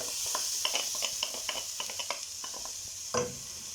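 Chopped onion sizzling in hot oil in a pan, a steady close hiss broken by a series of scraping stir strokes and one louder knock near the end.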